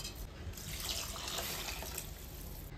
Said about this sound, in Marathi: आपण यामध्ये टाकणार आहोत पाणी, जे की ते मम्मी टाकणार आहे